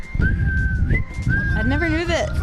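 Live whistling from a concert at Madison Square Garden in 2019: a clear, sustained whistled melody that holds steady, slides up, and ends in warbling runs over a dense, loud band backing.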